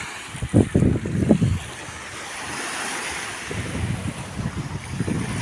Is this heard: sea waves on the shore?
yes